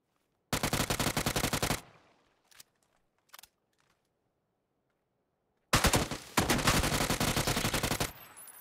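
Two loud bursts of rapid automatic gunfire in PUBG, each lasting over a second, separated by near silence and a couple of faint isolated clicks.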